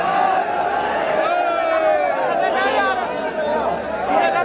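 A large crowd at a religious rally chanting a slogan in unison, a sustained massed roar of voices rising and falling, loud and close throughout.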